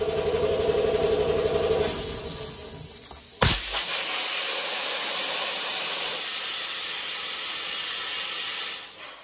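Pressurized air from a compressor line knocked loose from a DA sander's coupling gives a loud, steady hiss. It drops out abruptly and comes back with a sharp burst, then keeps hissing before fading at the end.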